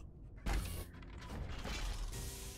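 A door swings open with a mechanical clunk and creak, a sharp thump of the latch followed by rattling movement, close by with no talk.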